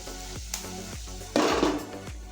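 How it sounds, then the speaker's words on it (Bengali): Capsicum and carrot frying with onion in a pan, for a homemade noodle dish, give a steady sizzle with repeated spatula knocks and a louder burst of frying midway, with no talking. "এবার একে একে এর মধ্যে ক্যাপসিকাম গাজর দিয়ে কিছুক্ষণ ভেজে রাখবো"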